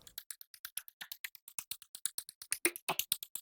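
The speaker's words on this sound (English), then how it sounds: "A glitch loop that sounds like this." A short, glitchy electronic drum loop for minimal tech house, rapid clipped hits in a fast stuttering rhythm, close and fairly quiet, with no voices.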